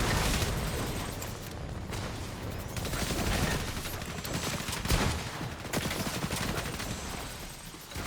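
Sustained assault rifle fire from a Fortnite match, dense rapid bursts running continuously throughout with occasional louder cracks and booms, loud and close with no talking.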